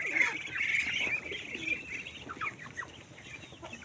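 Chickens and a rooster cluck busily at feeding time, a cluster of overlapping clucks and short calls close by over a light background, without speech.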